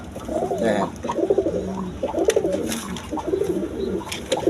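A black Gorra pigeon coos repeatedly in rolling, throaty phrases, close and fairly loud, with a few faint background sounds and no talk.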